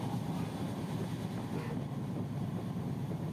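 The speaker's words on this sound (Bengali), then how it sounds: "ট্রেন খুব দ্রুত গতিতে চলছে" A steady rumbling drone fills the interior of a fast-moving train, constant and moderately loud throughout with no voices.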